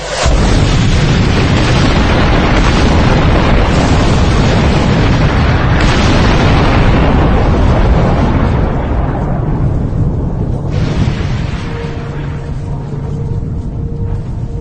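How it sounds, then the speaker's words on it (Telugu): A missile strike explosion hits a school building in Iran: a very loud, sustained blast roar with rumbling debris noise that fills the whole span and eases only slightly toward the end. "ఒకసారి ఆ భవనానికి పేలుడు సంబంధించిన దృశ్యాలు చూద్దాం"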